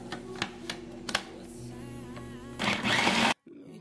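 Kitchen blender briefly whirring through ingredients that include red bell pepper for a meat roll filling, a short loud burst that cuts off abruptly after earlier faint clicks and handling sounds.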